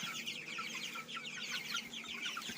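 Young chicks at a feeder cluck and cheep continuously in a busy overlapping chorus, close and fairly quiet, with no talking.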